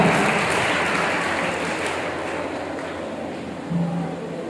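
An audience at a mushaira poetry gathering in a college applauds in a steady wash of clapping that slowly fades, with a brief voice near the end.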